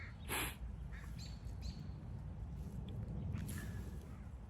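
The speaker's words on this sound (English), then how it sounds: "Here's another big group of birds coming." Crows and other birds call in a large group at a Japanese garden, with a few sharp caws and chirps scattered over a steady low background rumble, fairly faint and distant.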